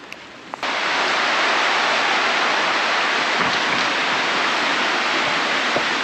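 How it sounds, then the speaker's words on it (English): Steady, dense hiss of rain, constant and enveloping after a brief quieter start, with a few faint ticks and knocks. "It's starting to rain."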